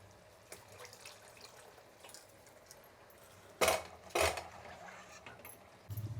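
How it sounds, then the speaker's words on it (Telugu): Water poured into lentils in a cooking pan comes in two short splashing bursts among faint kitchen clatter, close and brief, with a light clank at the end and no voices. "ఇంకా వేయాలండి, నీళ్ళు పోస్తాను."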